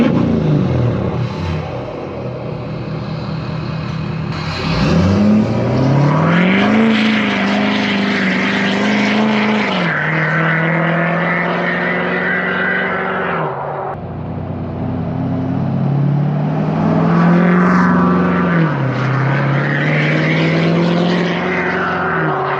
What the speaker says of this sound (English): we'll see what this 5-inch straight pipe sounds like